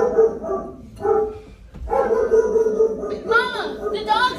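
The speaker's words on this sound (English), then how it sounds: "Mama, the dogs are barking." Dogs bark intermittently at mid distance while people talk over them, the barks rising through the chatter in short bursts.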